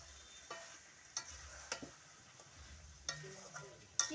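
Chicken curry with coriander leaves is stirred in a pan, giving a few sharp utensil scrapes and clicks over a faint, low sizzle, quiet and without speech.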